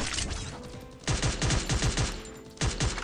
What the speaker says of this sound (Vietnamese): Ở tầm xa thì nó bắn ngon lắm anh em